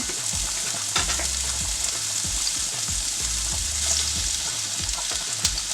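Onion and mushroom sizzle loudly in a hot pan, a dense continuous fry with intermittent stirring scrapes and a low rumble beneath. No talking is heard.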